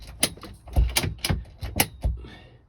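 A clamp is cranked down onto a wooden sheet with a series of about seven sharp, close ratcheting clicks and knocks in an uneven rhythm.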